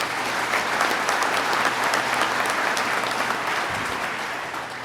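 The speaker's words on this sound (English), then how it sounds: "Let's give him a round of applause." Audience applause fills the hall at a New York State Police academy graduation, steady, close and loud clapping from a large crowd that holds for several seconds before starting to fade.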